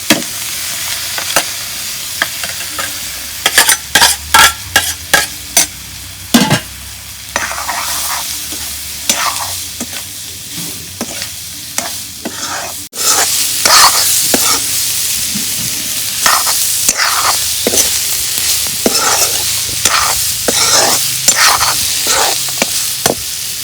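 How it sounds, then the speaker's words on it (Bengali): Spices frying in hot oil for a papaya and egg curry, with a steady broadband sizzle under repeated sharp scraping strokes of a spoon stirring against the pan, close and loud throughout. "তেলের মধ্যে মশলাগুলো ভাজা নিলাম।"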